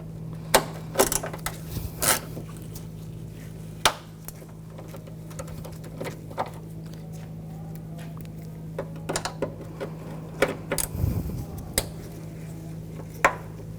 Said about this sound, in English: Using an 8mm socket, we're going to take these screws out.